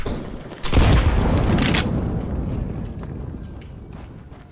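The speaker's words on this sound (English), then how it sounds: "Throwing flashbang." A flashbang grenade detonates in a shooter video game: one sudden, loud bang followed by a sustained, slowly fading roar of noise.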